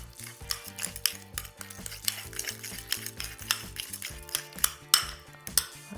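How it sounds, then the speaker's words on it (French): A spoon mixes avocado and wasabi in a bowl with a rapid, rhythmic run of scraping and clinking strokes, close and fairly loud, over a faint background hum. "Je vais mélanger donc mon avocat et mon wasabi"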